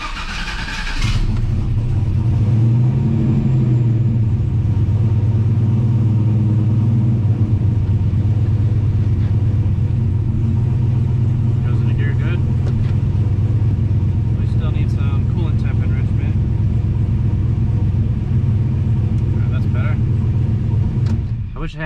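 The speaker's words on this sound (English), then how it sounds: "Let's see if we can get it to catch while it cranks a little bit better." A 900-horsepower turbocharged Chevrolet Silverado with Holley EFI catches after cranking and settles into a loud, steady, close idle rumble, with a person talking over it.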